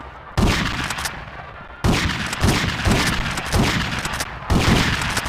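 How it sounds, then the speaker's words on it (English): Loud bursts of gunfire from the video game GTA Vice City Stories, repeated volleys in quick rhythmic succession with brief gaps between bursts, no talking. "Yep, I'm gonna shoot you."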